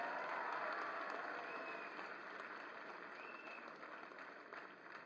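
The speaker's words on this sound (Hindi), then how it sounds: "तालियां बजती रहें" Dense applause from a large crowd at a sports award ceremony honouring athletes, steady and distant-sounding, slowly fading over a few seconds.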